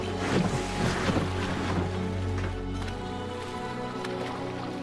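Paddling a boat down the vast Kranotsky River in Kamchatka: steady rushing water and wind noise against the hull, loudest in the first seconds then settling into an even, continuous wash with no talking.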